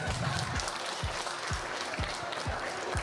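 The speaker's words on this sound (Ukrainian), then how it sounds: "аплодисменти йому, шановні гості" Wedding guests applaud in a steady, dense wash of clapping that runs the whole time, with regular low thumps pulsing underneath.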